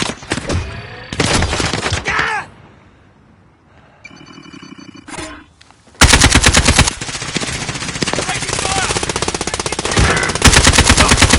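Bursts of rapid automatic gunfire in a PS4 shooting game, loud volleys, a quieter pause with scattered sounds, then a long sustained stream of shots fired at a bounty target.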